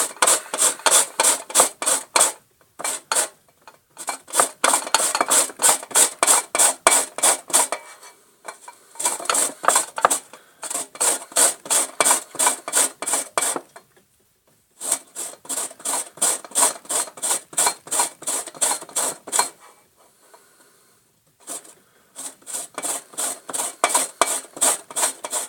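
Lemon peel is rasped over a metal grater in steady bursts of rapid scraping strokes, close and loud, with short pauses between runs and no talk.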